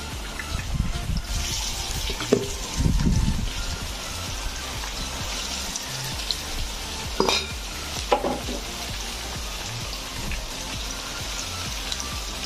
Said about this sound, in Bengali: 1 কেজি ঢ্যাঁড়স আছে, এটাকে আমি 4 বার ভাজবো